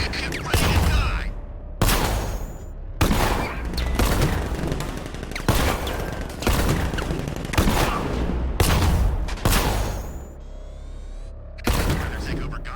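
Gunfire in the video game Batman: Arkham Knight rips out in repeated loud volleys of rapid shots with heavy booms, about eight bursts separated by brief gaps.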